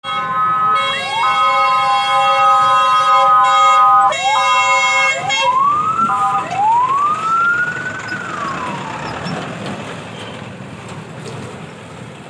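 An ambulance siren sounds loud and close, first as a rapid repeating two-tone pattern and then as long rising and falling wails that fade into traffic noise.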